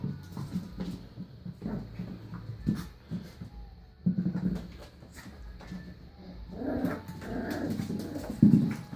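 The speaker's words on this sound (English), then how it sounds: "They're getting all acquainted here with their little kennel. Running around." Miniature Schnauzer puppies romp around a kennel, giving off soft yips, whimpers and little growls in scattered bursts amid scuffling, fairly close and at moderate volume.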